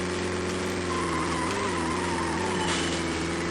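Game audio from Need for Speed Most Wanted on the Game Boy Advance: a continuous buzzy synthesized car engine drone with shifting pitch and a brief tire-skid squeal, steady and loud throughout.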